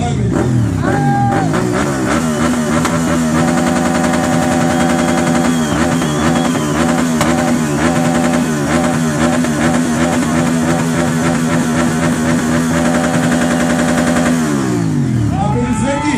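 A red Honda motorcycle engine revs loudly and continuously at a loudest-bike contest, its harsh, rattling roar sustained for many seconds before dropping away near the end, with crowd noise around it.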